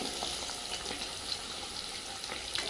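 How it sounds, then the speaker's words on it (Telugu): Prawn pieces fry slowly over a low flame, giving a soft, quiet, even sizzle with a few faint ticks and pops, no talking. "ముక్కలు నిదానంగా ఫ్రై చేసుకోవాలి మెల్లగా"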